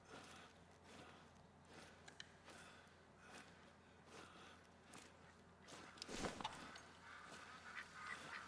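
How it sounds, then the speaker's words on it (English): Ducks call in the hunting game theHunter: Call of the Wild on the Te Awaroa reserve: faint, distant quacks and honks repeat irregularly over a low, steady outdoor ambience. "Got ducks coming in."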